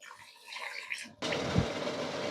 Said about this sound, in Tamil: அரை டம்ளர் தண்ணி ஊற்றிக்கலாம்.